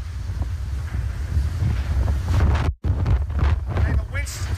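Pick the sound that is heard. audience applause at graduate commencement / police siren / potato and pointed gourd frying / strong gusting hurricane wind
strong gusting hurricane wind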